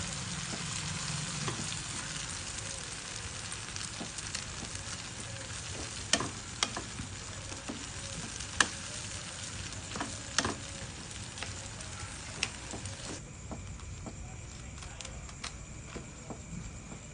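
Shrimp heads sizzling in a pan for shrimp pasta, a steady, fairly quiet frying hiss with scattered small pops and crackles that runs on alone for many seconds.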